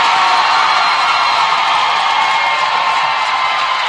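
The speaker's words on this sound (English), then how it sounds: "And the crowd goes bananas." Roller derby crowd roaring wildly in a packed venue, a loud, dense wall of cheering and whooping that holds steady throughout.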